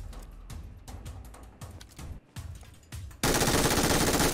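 Automatic MG fire in a battle royale game cracks out in rapid, irregular bursts over the first three seconds, then gives way to a dense, loud, steady wash of noise at the end.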